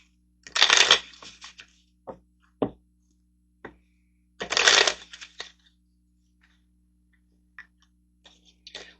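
Tarot cards riffle in two loud close shuffles, each followed by a few sharp taps and soft slaps as the deck is squared and cards are laid down, with quiet gaps between.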